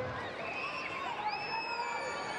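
A five-figure crowd at a Chelsea Women versus Liverpool Women football match in West London, a broad roar of cheering with whistles and whoops rising and holding, under faint commentary.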